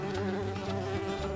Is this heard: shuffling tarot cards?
no